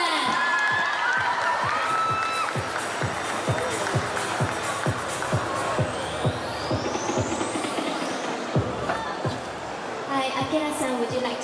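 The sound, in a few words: audience clapping and cheering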